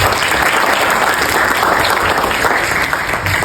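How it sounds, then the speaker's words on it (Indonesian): Loud, dense applause from a student audience at a university public lecture with the Surabaya mayor, a continuous wash of clapping from a large crowd for a few seconds. "Tepuk tangan dong sekali lagi."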